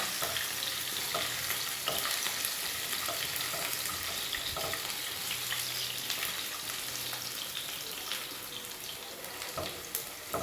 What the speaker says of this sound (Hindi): देखें लहसुन को मैंने हल्का हल्का फ्राई कर लिया है।